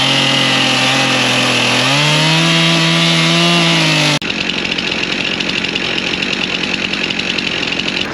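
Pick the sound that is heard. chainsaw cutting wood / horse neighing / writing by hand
chainsaw cutting wood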